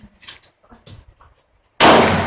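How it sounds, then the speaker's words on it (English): A single gunshot goes off at an outdoor gun range, loud and close, after a few seconds of quiet talking. "Start shooting."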